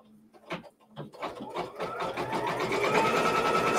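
A sewing machine stitches down a quilt block on stabilizer. A few short separate bursts give way to a steady, close, rapid mechanical whirr of continuous stitching.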